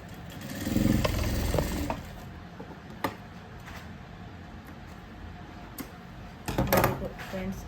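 A sewing machine double-stitches a strip onto a blouse in a boutique, with two short bursts of whirring, rattling stitching separated by quiet handling clicks and fabric shuffling.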